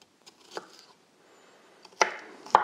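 A knife chops white and red onion on a cutting board for a summer salad, with a faint tap early on followed by two sharp, loud chops close by near the end, no talking.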